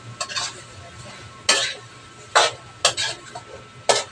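Dinuguan fries in a pan at home while being stirred, with a low sizzle under several separate scraping strokes of a utensil against the pan, close by.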